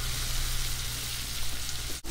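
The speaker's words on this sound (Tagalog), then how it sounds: "mailubog yung nasa ibabaw na sugpo at pumailalim dito sa mainit na mantika para matusta din" Shrimp deep-frying in hot cooking oil, a steady loud sizzle and crackle with no talking, broken by a brief clunk near the end.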